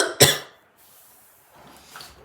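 A single sharp, close cough from a person bothered by dusty air blown by a fan, followed by a quiet breath and faint rustle.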